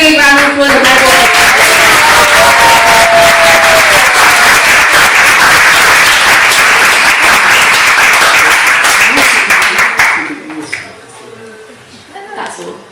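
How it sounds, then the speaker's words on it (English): Audience at a religious seminar breaking into loud, dense applause that holds steady for about ten seconds before fading into scattered claps and quiet room noise. "So big round of applause for everyone."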